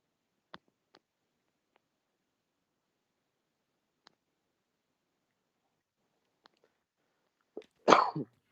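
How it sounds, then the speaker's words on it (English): A man coughs once, sharp and close, after several seconds of near silence broken only by a few faint clicks. "It's good to cough."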